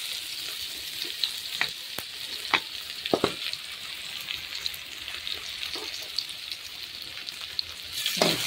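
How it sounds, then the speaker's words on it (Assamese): Onion and taro flower fry in mustard oil, a soft continuous sizzle with irregular small pops and crackles, fairly quiet and close, with no voices. "অকণমান লৰাই অকণমান ৰঙচুৱা হোৱাত মই ইয়াতে এতিয়া দিম মিঠাতেল"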